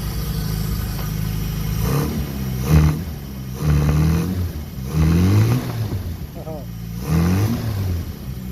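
A Renault Dauphine Gordini 850cc engine with a cold air intake revs in repeated short bursts, rising and falling about once a second, loud and close with audible intake airflow.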